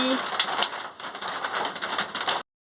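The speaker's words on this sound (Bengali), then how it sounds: "কড়া গরম হয়ে গেছে, আমি তেলটা দিয়ে দিচ্ছি।" Cooking oil goes into a hot wok in a home kitchen and crackles with a dense, spattering sizzle like light rain, steady for a couple of seconds before cutting off abruptly.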